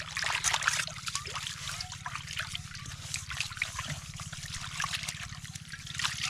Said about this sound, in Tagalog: hugasan ko muna itong kawali kasi ito yung lulutuan natin ng isda mamaya